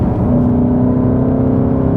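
Ford Mustang Dark Horse fitted with an AWE active exhaust in T304L stainless steel, revving hard at the top of the rev range: a loud, sustained, steady engine roar with a strong low rumble and no voices.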